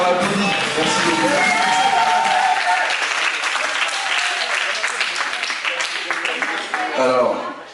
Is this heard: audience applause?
yes